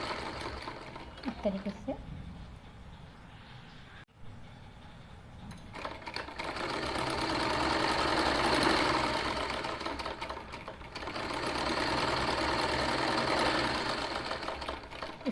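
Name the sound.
sewing machine stitching side seams of a kurti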